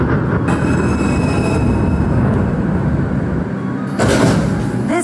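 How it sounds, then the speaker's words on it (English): A Manhattan-bound 7 express subway train in the Roblox game rumbles along the track, a loud continuous rolling roar with rhythmic wheel clatter and a brief squeal and surge near the end. "This is a Manhattan-bound 7 express train, as in the opposite of a local train."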